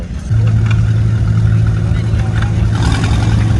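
A red Farmall tractor engine runs at a tractor pull rescue, a loud steady low rumble with a droning hum, close by and sustained, with a voice talking over it.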